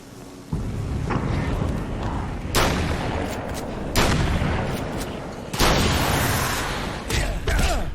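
Shotgun blasts in the video game Alan Wake's American Nightmare, four loud booming shots spaced a second or two apart over dense, rumbling game noise.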